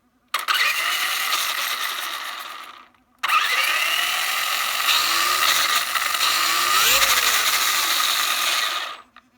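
Traxxas Velineon 3500kv brushless motor in a Slash 4x4 VXL RC car revving hard with the wheels off the ground, two sustained high-pitched whining bursts separated by a short pause, loud and close.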